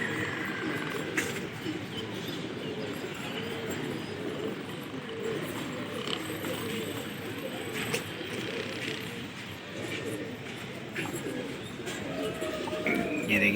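Pigeons cooing and scuffling on a rooftop during a fight, soft repeated low coos under steady outdoor noise, with people talking nearby.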